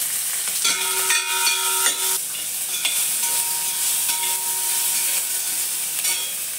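Curry leaves, green chilies and garlic-ginger paste sizzle loudly in hot oil in a pan, with a continuous close frying hiss and occasional stirring scrapes and clinks.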